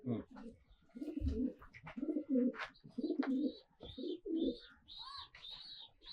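A pair of black Dubba pigeons coos in low, repeated rolling pulses, close and steady, with higher chirps scattered above.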